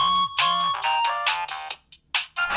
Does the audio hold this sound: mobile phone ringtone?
yes